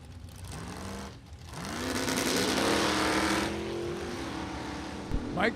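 Drag race run at a Super Pro bracket event, an Olds Cutlass against a Camaro, loud engines roaring and sweeping upward in pitch through gear changes, heard from trackside with an announcer talking over them.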